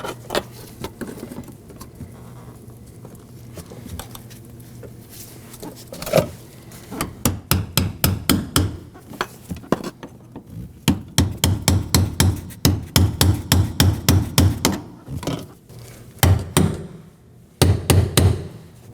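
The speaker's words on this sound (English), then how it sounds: "grab your hammer and chisel and hammer it on." Hammer striking a chisel to drive a new fuel pump lock ring onto a 2015-2023 Nissan Maxima 3.5L V6 fuel pump module, heard as bursts of sharp, close metallic taps in quick rhythmic runs with short pauses.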